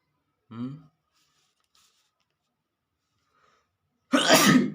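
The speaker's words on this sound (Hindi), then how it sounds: "छींक आ गई है" A single loud, close sneeze bursts out near the end after a short stretch of quiet, with a faint brief vocal sound at the start.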